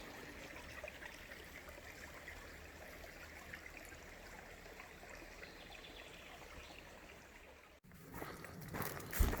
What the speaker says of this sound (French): j'ai été accompagné toute la nuit par le ruissellement de l'eau dans le ruisseau